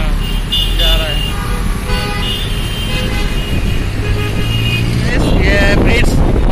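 Congested traffic on a bridge on the way to Bangalore international airport, with several car horns honking in bursts over a rumbling engine bed, while someone talks nearby throughout.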